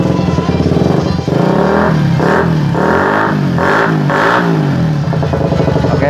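A Suzuki Satria F150 motorcycle, custom japstyle build, revs loudly and close up, its engine rising and falling in several repeated throttle blips over a steady idle, with no talking.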